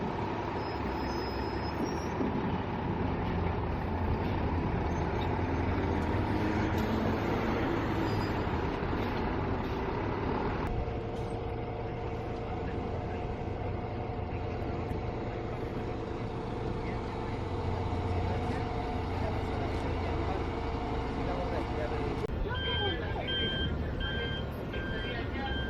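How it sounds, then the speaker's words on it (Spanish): A Volvo 7900e electric bus on route G23 in Santiago runs steadily with a constant hum and road rumble for the whole stretch, and a shift in tone partway through. Voices can be heard faintly underneath. "este bus Volvo eléctrico está trabajando solo en el recorrido G23"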